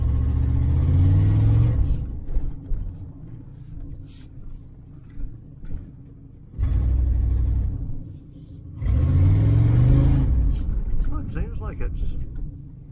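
A 1994 GMC Stepside pickup truck pulls off in drive, its low engine rumble surging loudly in several bursts and easing between them, with people talking over it.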